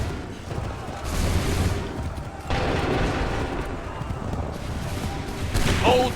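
Musket volleys crackle in Assassin's Creed 3, a ragged fusillade of several broadband bursts at around one and two and a half seconds, each ringing out with a booming tail, loud and close, with no speech.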